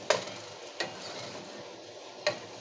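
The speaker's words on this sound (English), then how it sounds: "We're gonna stir it up in there" Tomatoes being stirred into vegetables in a pan, with a steady soft sizzle and three sharp scrapes or taps of the utensil against the pan, close and without talk.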